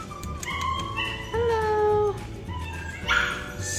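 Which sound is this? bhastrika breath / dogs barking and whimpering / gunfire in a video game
dogs barking and whimpering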